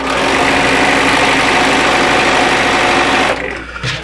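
A sewing machine runs steadily, stitching a narrow strip of quilt fabric, a loud continuous hum and whir that stops abruptly near the end, leaving a quieter pause.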